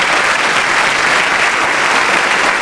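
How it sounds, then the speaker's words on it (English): Applause for Daniel, a returning senior at the Edgren High School 2015 graduation ceremony, a loud, dense, unbroken wash of clapping from a large audience. "A round of applause for Daniel"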